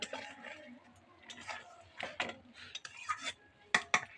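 A pot of eggplant-spinach curry is lifted off a village kitchen stove: a run of close metallic clinks and clatters, with a few sharper knocks near the end, and no talking.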